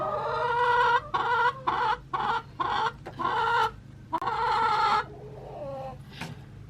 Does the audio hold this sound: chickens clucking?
yes